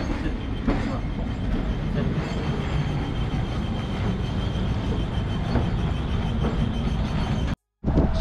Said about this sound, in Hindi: यहाँ पर ट्राम फिर से आ चुका है